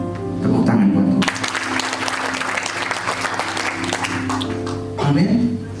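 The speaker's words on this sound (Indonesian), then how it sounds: "Tepuk tangan buat Tuhan." Congregation at a church service clapping together in a loud, dense burst of applause lasting several seconds, framed by a speaker's voice just before and after.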